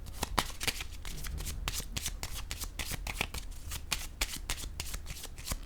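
A deck of tarot cards is shuffled close by, a steady run of crisp riffling flicks and soft slaps repeating for several seconds with no voices.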